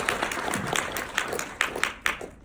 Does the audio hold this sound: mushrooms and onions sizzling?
no